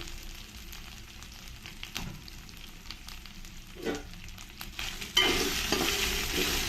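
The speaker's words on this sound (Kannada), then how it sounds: "ಒಂದು ನಿಮಿಷ ಇದನ್ನು ಸ್ವಲ್ಪ ಎಣ್ಣೆಯಲ್ಲಿ ಫ್ರೈ ಮಾಡ್ಕೋಬೇಕು" Drumstick pieces frying in oil for a pulao sizzle and crackle quietly with occasional stirring scrapes, then the sizzle swells abruptly louder and stays strong toward the end.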